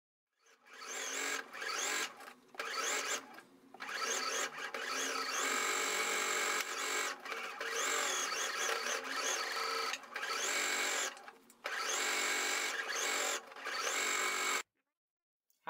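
A sewing machine stitching all the way around the edge of a fabric burp cloth made without bias binding, loud and close, running in long whirring bursts separated by several short pauses, then stopping.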